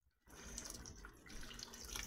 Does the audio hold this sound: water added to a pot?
yes